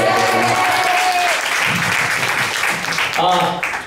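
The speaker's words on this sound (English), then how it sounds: "Let's give my dad a round of applause, too." A crowd at a live music show at the Clarion gives a full, dense round of applause, close and loud, with a voice briefly cutting through the clapping.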